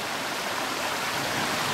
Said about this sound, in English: There's a creek here we're crossing.